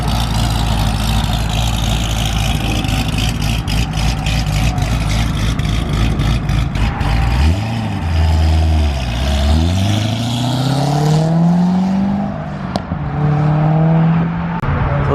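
A Corvette Z06 rumbles loudly at a car meet, first idling with a choppy, lumpy note and then revving up and down several times. The engine is close and dominates throughout.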